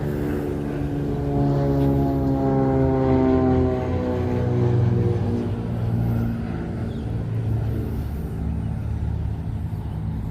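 Propeller airplane passing overhead near a busy airport in Fort Myers, Florida, a steady loud engine drone with harmonic tones sliding lower as it moves past across about ten seconds, heard alone.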